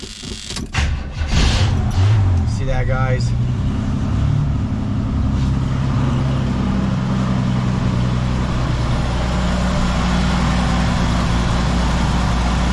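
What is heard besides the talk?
old car engine starting and idling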